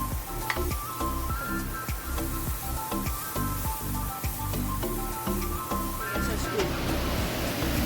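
Garlic sizzles steadily in a hot frying pan while salt and pepper squid is cooked, with a continuous loud crackle and rhythmic stirring scrapes up close, and a voice talks over it.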